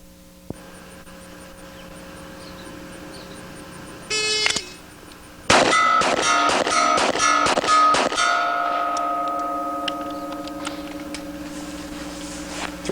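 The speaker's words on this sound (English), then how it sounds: "6 shots at 40 yards on the metallic gong" A Smith & Wesson 4506 pistol chambered in .460 Rowland fires six shots at a metal gong 40 yards away, each sharp bang followed by a ringing metallic clang in quick, loud succession, the last ring fading out.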